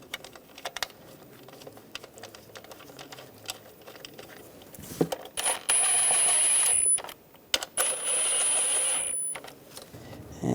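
Ignition coil bolts on a 2001-2006 BMW 325xi are snugged down with a hand tool, giving close, irregular clicks and taps, then a louder whirring ratchet-like stretch near the end, with no voices.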